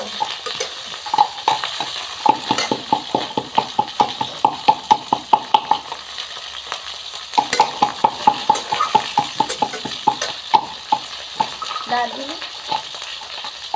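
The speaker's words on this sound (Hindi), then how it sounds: "देखिए गोभी भून रहे हैं" Cauliflower fries and is stirred in a pan in a home kitchen, a fast run of clacking spatula scrapes against the pan over a soft sizzle, pausing midway, then resuming, with faint voices near the end.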